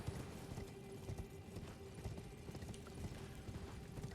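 A horse's hooves clip-clop in steady rhythm in the video game Elden Ring, close and moderately quiet, with faint mechanical clanks behind and no talking.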